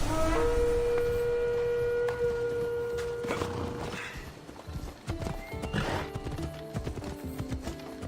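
A horse being ridden in Assassin's Creed Odyssey clip-clops along steadily, with a neigh near the start and continuous hoof beats over faint ambient game sounds.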